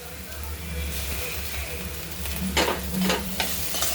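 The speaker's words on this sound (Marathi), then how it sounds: "शिमला मिर्च पण आपल्याला छान परतून घ्यायची" Chopped capsicum stir-fried with golden-browned onion for pav bhaji, a steady close sizzle with scraping stir strokes toward the end.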